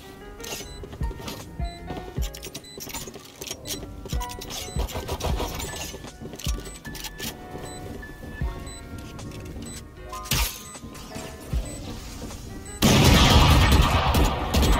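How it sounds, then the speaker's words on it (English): Pistol gunfire in the video game Valorant, with sharp shots and rattling impacts scattered over busy game sound and music, and a much louder, denser burst of noise near the end. "I'll shoot him with a pistol."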